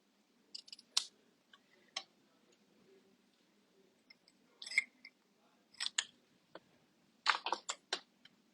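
Scissors trim bow ribbon tails during card making, a handful of short, crisp snips scattered irregularly amid quiet handling sounds, close and soft.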